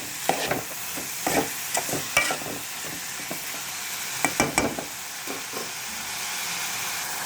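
Onion, ginger garlic paste and green chilies frying in oil for an egg curry, a soft continuous sizzle broken by sharp scraping clicks of a spoon stirring the pan, no voices.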